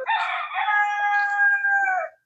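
A rooster gives a single long, loud cock-a-doodle-doo crow, close by and alone, lasting about two seconds before it cuts off.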